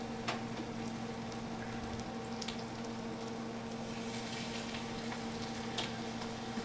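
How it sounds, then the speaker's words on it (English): Fish for fish and chips frying in a hot cast iron pan, a steady close sizzle and crackle with small pops, continuing without letup and with no talking. "And we're going to add the fish 1 piece at a time. Hear that sizzle?"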